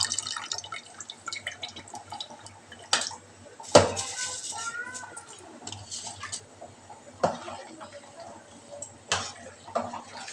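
Cooked rice being stirred into Andhra-style veg biryani in a pot, heard as scattered clinks and scrapes of a spoon against the metal with occasional louder knocks, fairly close and moderate in level, with faint background voices.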